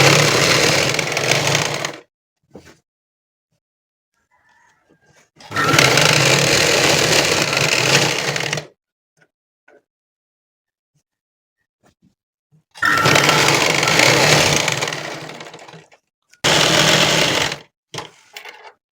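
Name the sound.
sewing machine stitching a nighty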